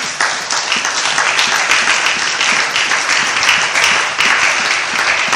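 A church congregation applauding the Lord during a sermon, a steady, loud wash of many hands clapping that continues without a break from start to finish.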